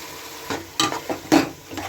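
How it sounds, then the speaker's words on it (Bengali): Chicken ghugni with salt is stirred in a pan, a few distinct scraping strokes of the spoon over a soft, low sizzle. "নুনটা দিয়ে এখন একটু ভালো করে নেড়ে চেড়ে দেবো"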